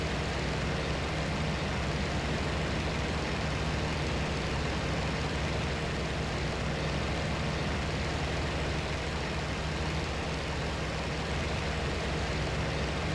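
A Yak-1b fighter's engine drones in IL-2 Sturmovik: Battle of Stalingrad, a continuous dense roar with steady low rumble throughout, no breaks or changes.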